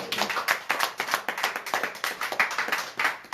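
A church congregation claps in unison, a fast steady rhythm of sharp hand claps filling the room, close and lively for several seconds with no talking.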